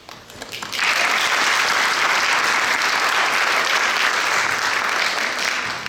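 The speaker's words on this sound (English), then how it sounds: "Can we have a big round of applause" An audience at a classical dance arangetram breaks into a big round of applause, rising quickly after a quiet start into loud, sustained, dense clapping that holds steady to the end.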